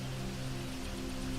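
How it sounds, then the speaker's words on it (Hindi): Light drizzle with raindrops falling softly, a dense, even patter throughout with a faint steady hum beneath, no talking. "हम रिमझिम फुहारों के बीच खड़े होकर बारिश की बूंदों को महसूस कर रहे"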